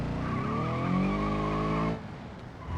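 A 1.6-liter naturally aspirated flat-four car in BeamNG.drive, with traction and stability control off, drives with a steady engine hum and tire skid, loud and close, then drops abruptly to quieter road noise near the end; no talking.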